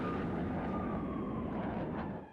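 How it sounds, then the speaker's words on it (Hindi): F-16 and F-35 military jets performing in a NATO air show, a sustained roaring engine rumble that holds steady and then fades slightly at the end. "F-16, F-35 समेत तमाम विमानों का प्रदर्शन"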